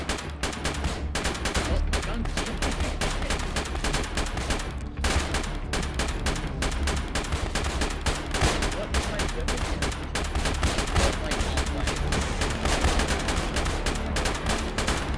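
Sustained gunfire in the video game ARMA during a defence, rapid automatic bursts and single shots cracking continuously throughout, steady and fairly close, with occasional game sounds mixed in.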